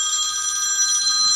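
A telephone rings indoors with a bright, steady electronic trill, close and fairly loud, with no voices over it.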